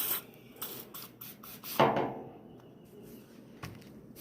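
A run of quick spritzes from a spray bottle, short breathy hisses up close, with one longer, stronger burst midway.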